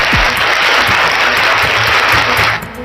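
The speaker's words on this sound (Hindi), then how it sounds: "आप सभी का हमारे चैनल पर तालियों के साथ स्वागत है।" Loud, continuous applause greets devotees to a Shiva devotional channel, a thick burst of clapping that cuts off abruptly just before the end.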